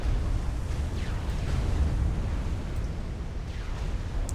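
Torpedo explosions in the real-time strategy game Supreme Commander make a continuous deep rumbling roar, with dense low booms overlapping throughout and no break.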